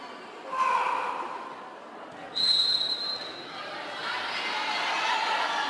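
Crowd at a women's college volleyball game between SMU and Stephen F. Austin, a steady broad roar of noise throughout with a sharp referee whistle rising over it midway, and brief louder swells from the crowd.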